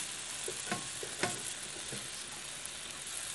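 Mushrooms and melting cheese fry in a pan, giving a soft, steady sizzle with a few sharper crackles and pops, quiet and close, with no talking.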